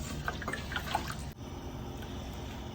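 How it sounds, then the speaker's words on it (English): A cup of water pours into a 16-quart All-Clad stainless steel rondeau pot of mutton biryani, a short splashing trickle with a few drips before it stops, leaving low steady background noise. "I'm going to add another 1 extra cup of water."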